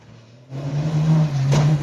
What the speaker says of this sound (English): before he revved his engine and barreled out of the store.